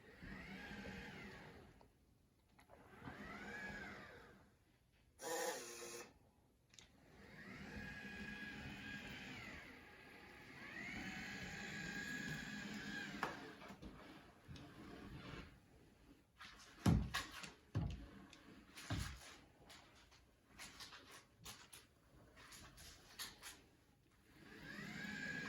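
An iRobot Braava M6 mopping robot works across a hardwood floor, its soft motor whir rising and falling as it backs up, turns and makes repeated passes, with a few sharp clicks and squirting bursts in the second half.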